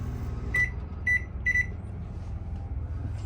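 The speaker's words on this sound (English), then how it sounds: "to use the microwave, you just need to punch in your time." Three short, high electronic beeps from a microwave keypad in a Westland Pursuit camper, evenly spaced, over a steady low appliance hum.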